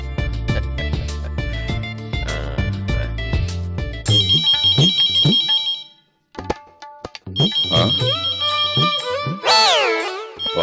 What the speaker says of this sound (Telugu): పక్కనే ఫోన్ మోగుతున్నా